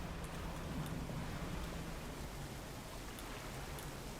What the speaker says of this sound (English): So apparently we just drive directly into the waterfall.